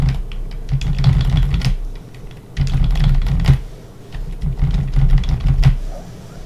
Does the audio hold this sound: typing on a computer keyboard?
yes